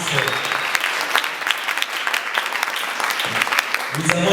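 Audience applauding for the artists at an event, dense continuous clapping throughout with brief voices breaking through near the start and end.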